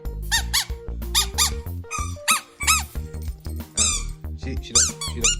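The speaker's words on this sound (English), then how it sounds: "I found a working Squeaky toy." A squeaky dog toy squeaks repeatedly in quick bursts of high rubbery squeals, near and loud, with a puppy nearby and people talking between squeezes.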